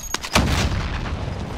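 A Claymore mine going off in a video game: a sharp close blast with a booming low rumble that decays over a second, preceded by a smaller crack.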